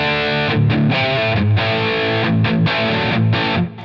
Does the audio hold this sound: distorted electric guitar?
yes